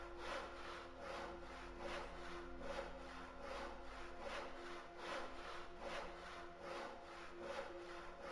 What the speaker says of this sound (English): We had a hacksaw, right? There it is.